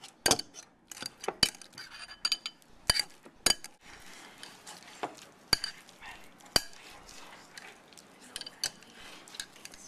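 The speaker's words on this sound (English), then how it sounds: "we are going to smush the avocado" A fork mashes avocado in a bowl for guacamole in a home kitchen, giving scattered sharp clinks and taps against the bowl with softer squishing between them, close and fairly quiet, with no talk.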